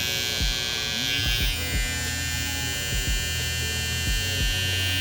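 Blue Babyliss FX One hair trimmer running, a close, steady electric buzz with a high whine, punctuated by soft irregular clicks and knocks as it is handled.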